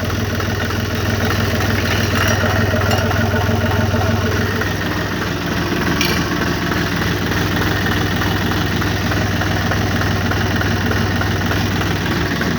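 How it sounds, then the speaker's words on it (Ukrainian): A cold tractor engine idles steadily and close by, a low, even diesel rumble with a faint knocking pulse running throughout without change. "Так, трактор холодный, давление четверка."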